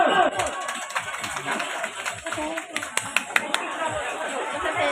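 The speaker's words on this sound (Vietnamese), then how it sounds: "một lần nữa xin dành một tràng pháo tay thật lớn để chúc mừng chú rể" Applause from guests at a wedding ceremony, a steady wash of clapping with sharp individual claps standing out near the end, mixed with crowd chatter and a speaking voice.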